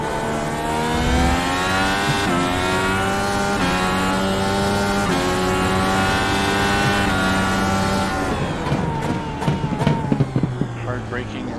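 A race car on a lap of the Circuit of the Americas screams through the gears, its high engine note climbing in repeated rising pulls. It then drops into crackling downshifts under hard braking, with a voice talking over it.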